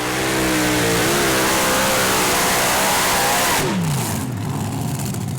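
A three-engine pulling tractor at a European tractor pulling championship in Brande, Denmark, roars loudly and continuously as the engines climb in pitch through the pull, then drops off sharply near the end.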